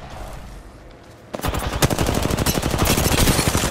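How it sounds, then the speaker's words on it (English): Rapid automatic gunfire from the Apex Legends video game breaks out after a quieter stretch and continues as a dense, loud, fast rattle of close shots to the end. "why are they shooting at us?"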